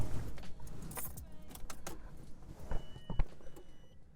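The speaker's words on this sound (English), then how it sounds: "Let me get the keys out" Metal car keys for a 1990 Honda Civic Hatchback Si jangle and clink in quick irregular bursts, close by, with a few sharper clacks near the end.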